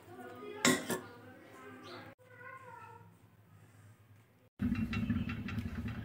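A metal spoon scrapes and clinks against a pot while beef yakhni pulao is dished out, with soft clatter and a louder burst of utensil noise near the end, close by.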